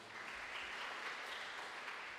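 A church congregation at a Sunday service applauds enthusiastically, a dense, even clapping that holds steady for the whole moment, moderately distant and without speech.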